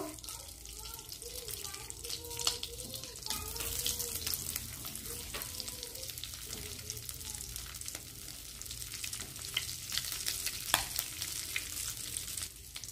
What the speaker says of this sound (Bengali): এবার আমি ওই তেলের মধ্যে কালা জিরে ফোড়ন দেব।